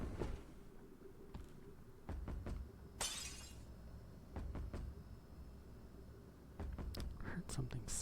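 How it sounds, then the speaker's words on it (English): Glass smashing inside a video game, a single bright shattering crash in the middle with scattered clicks and knocks around it over a low ambient drone. "Heard something smash."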